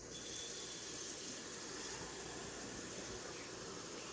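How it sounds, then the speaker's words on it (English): Tap water runs steadily into a bowl, a close, continuous hissing splash with no breaks and no voices. "You just need to get a bowl of water"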